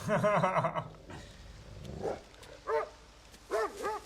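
A dog barks a few times, sounding distant and fairly faint, in short separate bursts with quiet gaps between them.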